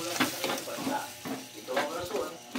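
Sisig sizzles and fries in a hot pan while a spatula stirs it, with a steady crackle under the scraping.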